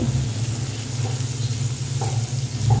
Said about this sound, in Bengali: তারপর সব কিছু মিশিয়ে আবার একটু ভালো করে ভেজে নিতে হবে